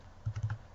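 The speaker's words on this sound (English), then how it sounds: "So here I am typing" A few quick, light keystrokes on a computer keyboard as values are entered into a form. The taps are close and faint, about four in a short burst, with no talk over them.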